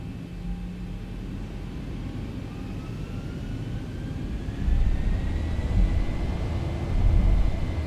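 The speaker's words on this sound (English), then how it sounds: "Time for takeoff." A Boeing 737 in the X-Plane 11 flight simulator spools up for takeoff, a steady broad engine roar and rumble with a faint rising whine that swells louder toward the end, with no one talking.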